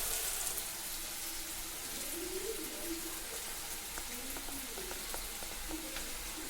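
Garlic paste frying in a pan for an Assamese-style home recipe gives a steady soft sizzle, with faint clicks and small bubbling pops over a quiet hiss.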